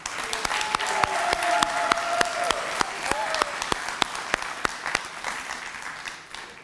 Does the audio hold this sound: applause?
yes